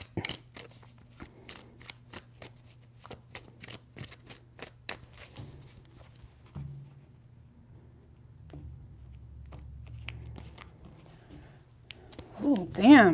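A tarot deck is shuffled three times in a run of crisp, quick riffling clicks and taps, followed by a quieter stretch with a low steady hum and a louder rustle at the very end.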